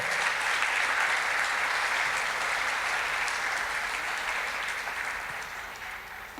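A church congregation applauds steadily and loudly at a Christian service, a dense sustained wash of clapping that holds for several seconds before slowly tapering off, with no voices over it.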